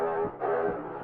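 A brief pitched-down vocal sample of a single sung syllable, taken from a song and treated with effects. It is a dark, sustained tone lasting about a second, fairly quiet and alone.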